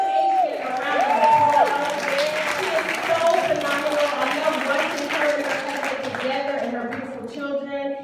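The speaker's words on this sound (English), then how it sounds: "So go ahead and give Adrienne a round of applause" Keynote audience applauding a workshop speaker, sustained dense clapping across the whole stretch, with a voice talking over it at the start and again partway through.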